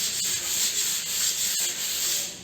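A steady, hissing scrape of sanding runs throughout, rubbing back and forth in an even rhythm with a few faint clicks.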